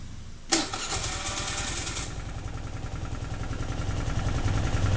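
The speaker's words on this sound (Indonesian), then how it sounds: "tadi penulis ngerekam contoh motor yang konsisten RPM-nya" A motorcycle engine fires up with a sharp start, then settles into a steady idle at constant RPM, its evenly spaced low thumps repeating in a regular rhythm, close and fairly loud throughout.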